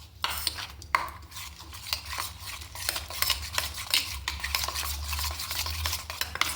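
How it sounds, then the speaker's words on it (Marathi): A prawn marinade with egg white is stirred in a bowl, giving continuous wet scraping and squelching with occasional clinks of the utensil, close up and alone. "आणि मग टाकूया त्यात आपण अर्ध अंड, फक्त सफेदगार, पिवळी नाही। नंतर ते आपण मिक्स करून घेऊ।"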